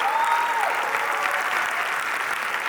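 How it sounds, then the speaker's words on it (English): Audience applause at the IMRC 2022 opening ceremony in Houston: a steady round of clapping, with a brief whistle-like tone early on. "Big round of applause."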